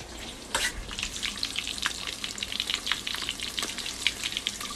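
Pâté fries in a pan with a close, crackling sizzle and scattered sharp pops, steady throughout with no talking.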